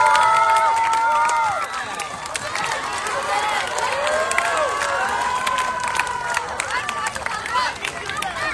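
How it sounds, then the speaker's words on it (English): Crowd at a sports carnival closing ceremony clapping and cheering for an award winner, a loud sustained roar of applause with shouts and children's voices mixed in. "Big clap for him now."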